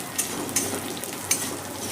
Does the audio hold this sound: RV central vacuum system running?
no